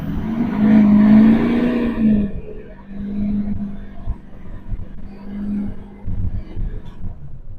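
An LLY Duramax diesel pickup fitted with CAT filters is revved hard on a cold engine, giving a loud roaring rev that holds for about two seconds, then settles into rougher rumbling with a few smaller blips.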